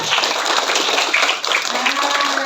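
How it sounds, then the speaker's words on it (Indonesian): Children clap their hands together loudly at a charity gathering for orphans, a busy, unbroken rattle of many small hands, with a voice heard faintly under the clapping. "Mana tepuk tangannya belum keras?"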